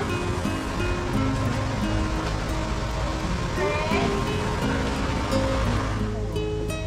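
Pacific Ocean surf rolls onto the beach beyond a resort's adults-only pool area, a steady broadband wash under background music and faint voices.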